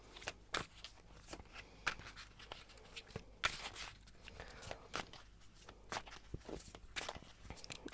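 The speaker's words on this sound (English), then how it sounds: "I'm going to shuffle a little bit more." A deck of tarot cards is shuffled by hand, giving quiet, irregular riffling and tapping bursts close by with no speech.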